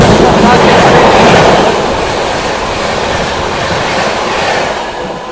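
The Patna-New Delhi Amrit Bharat Express runs at speed with a loud, continuous rushing roar and clattering wheels, heard close up.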